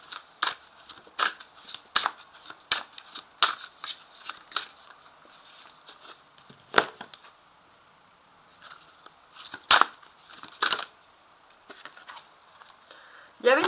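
Tarot cards shuffled for a reading, a long run of crisp riffling and flicking bursts in a steady irregular rhythm, close and fairly quiet.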